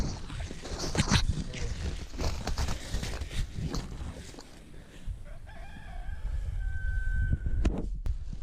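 A rooster crows near the end of a garden scene among raised beds and an okra harvest, rising over rustling, handling noises and scattered clucks that run throughout.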